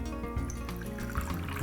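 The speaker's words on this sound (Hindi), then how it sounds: "तो ये एक बोल में लिया पानी।" Water swirling and trickling in a bowl while sabudana vada are prepared, soft liquid sloshes and drips close by, with no talk.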